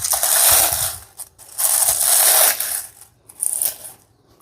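A grinding machine crushes leaves for homemade tea powder, whirring loudly in three bursts with short pauses between them.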